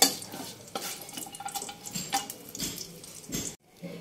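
Bay leaves with whole cinnamon, cloves and cardamom frying in oil in a wok bring a quiet crackle and sizzle, broken by scraping spatula strokes and clinks against the metal, close by, with no talk.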